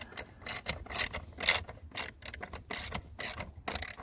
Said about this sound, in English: Grab your ratcheting end, swap it around. You can go through and just tighten this up now.